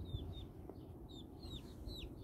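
Chickens heard faintly around their coop, soft clucks under a low rumbling background along with thin high chirps scattered through the moment.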